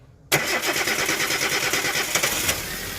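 Chevrolet Spark engine cranking and catching after a brief silent moment, then settling into a loud, steady idle with a slightly uneven throb, close by.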